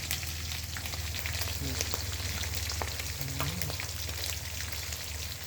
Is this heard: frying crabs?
yes